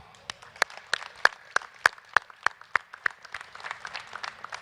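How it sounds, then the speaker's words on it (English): Scattered, sparse clapping from a charity Heart Run and Walk fundraiser audience, sharp distinct claps at an uneven rhythm, loud and close, with a few hands thickening into light applause toward the end. "they deserve a round of applause as well."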